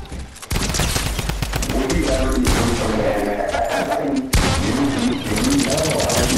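Rapid gunfire bursts from the Fortnite video game, loud and dense, with a short gap near the start and another break partway through, while a player speaks over the shooting.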